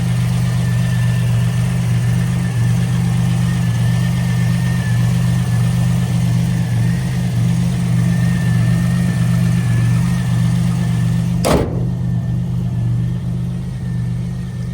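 A 1987 Buick Grand National's 3.8-litre turbo V6 idles steadily with a loud, even low rumble and a faint whine, unchanged for the whole stretch apart from one brief sharp click.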